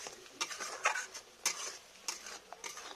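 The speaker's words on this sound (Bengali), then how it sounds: "পুরা ভাজবে মশলাটা" Masala spices frying in a pan, stirred in bursts with a spatula, giving scraping sizzles and light metallic clinks against the pan, close and fairly quiet, with no voices.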